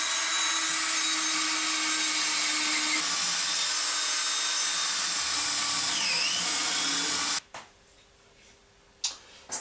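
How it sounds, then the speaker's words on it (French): A long wood drill bit bores into a wooden beam on a pillar drill, a loud steady grinding whir for about seven seconds before cutting off abruptly, followed by quiet with a few faint knocks. "je vais le faire avec ces longues mèches en bois"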